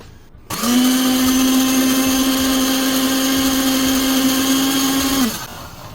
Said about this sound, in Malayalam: ഇനി നമുക്ക് മിക്സിയിൽ ഇത് അരച്ചെടുക്കാം.